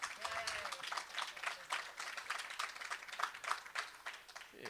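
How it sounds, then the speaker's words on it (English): A conference crowd applauding and cheering steadily, dense clapping throughout with a voice briefly audible over it. "The crowd cheers."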